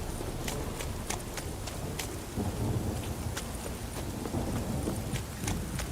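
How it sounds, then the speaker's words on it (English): Steady rainfall and distant rumbling in a storm scene in the video game Witcher 3, a constant hissing downpour with faint irregular ticks and low rolling rumble, no voices over it. "This downpour's a bastard, it is."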